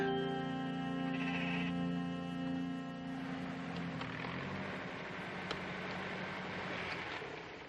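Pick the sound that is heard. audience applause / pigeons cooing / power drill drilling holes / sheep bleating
sheep bleating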